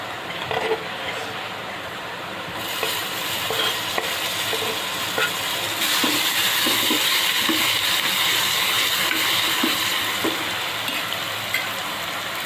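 Tomatoes frying and being stirred in a pan with onions for a Maharashtrian brinjal dal curry, steady close sizzling with scraping spoon strokes that grow louder as the tomatoes go in.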